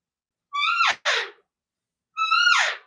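A hunter's voice imitates an elk cow mew: two soft, high, downward-sliding calls close together, then a third after a pause, all near and clear with no talking.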